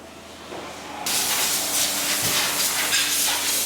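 A loud, steady spraying hiss starts abruptly and runs continuously as a parts washer in a diesel transmission shop blasts fluid, with a faint low hum beneath.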